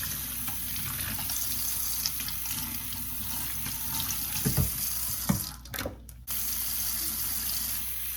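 Tap water runs steadily into a sink while a bundle of curly human hair is rinsed under it, a continuous close splashing with brief sharp interruptions near the end.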